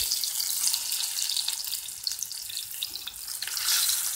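Plantain fries in a pot over high heat, a dense, bright hiss of bubbling oil that runs steadily throughout without pause.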